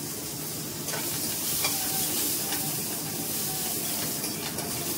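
Carrots and beans go into a frying pan of hot cumin tempering, giving a quiet, steady sizzle with light stirring scrapes.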